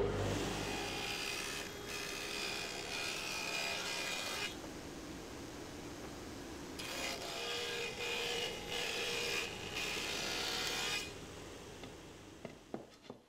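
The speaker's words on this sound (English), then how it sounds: "I'll use a dado stack on the table saw to cut a rebate for it" A table saw fitted with a dado stack cuts a rebate in wood for a plywood cabinet back panel, a steady loud grinding roar across two long passes with a brief lull between, with no talking.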